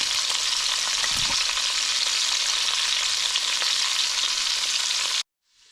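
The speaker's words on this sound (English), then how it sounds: "I'm just going to let these go until they develop a nice crust and get some really good browning" Short ribs browning in a hot pan for a ricotta gnocchi and short rib ragu, giving a loud, steady, even sizzle with no talk until it cuts off abruptly near the end.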